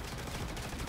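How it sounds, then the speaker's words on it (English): Sustained automatic gunfire in the video game Star Citizen, a dense, loud, continuous burst of shots filling the whole moment with no talk. "Yeah, he's shooting at me."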